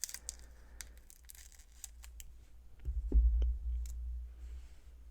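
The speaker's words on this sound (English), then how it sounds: "let's grab the scissors" A few crisp snips of sticky scissors cutting, close by and fairly quiet, with a light low thump as the blades close.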